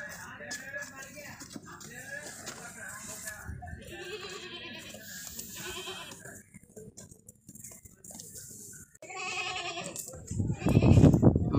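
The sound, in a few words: goat bleating at livestock market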